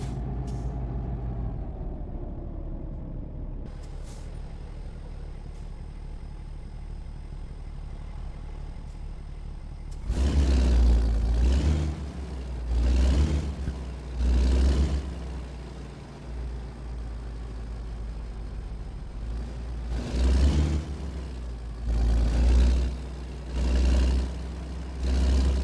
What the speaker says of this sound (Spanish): Escuchen ese freno de motor, ese sonido es música para mis oídos.